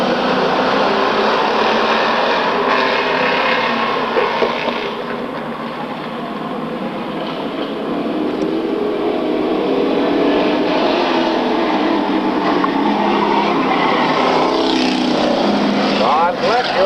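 Stock cars in a Spur Sportsman semi-final at a racetrack give off a loud, continuous engine roar that dips briefly around the middle and then swells again, with an announcer talking over the whole pass.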